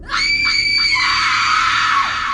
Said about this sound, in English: Isadora shrieks.